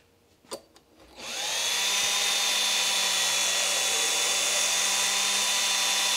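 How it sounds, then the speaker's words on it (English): A power drill spinning at its fastest setting sharpens chainsaw chain teeth. A couple of faint clicks come first, then a loud, steady, high-pitched whine and grind that starts abruptly and holds for several seconds. "the faster the drill goes, the more metal that comes off your teeth"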